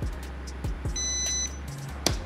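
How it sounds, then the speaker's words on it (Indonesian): The remote for an LDRC Nissan Skyline GTR R34 RC drift car beeping after the car is switched off, a thin high electronic tone lasting about half a second among scattered handling clicks and thumps. "kalau mati itu, mobilnya mati, remote-nya itu akan bunyi bip bip bip teman-teman."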